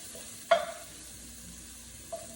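Garlic sautéing in a pan is stirred with a single scraping clatter, then a softer knock follows, over a faint steady sizzle in a quiet kitchen.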